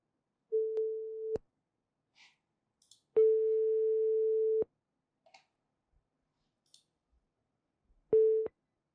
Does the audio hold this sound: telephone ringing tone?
yes